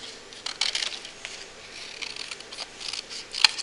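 Short crisp snips and rustles of scissors cutting through paper, several quick cuts close by, ending with a sharper snip.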